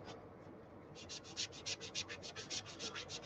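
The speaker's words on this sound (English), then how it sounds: "Turn your magic eraser over, get another clean spot, go at it again." Rhythmic scrubbing of a shoe with a magic eraser, a dense gritty rubbing like sanding repeated in quick regular strokes, close and steady, with no voices.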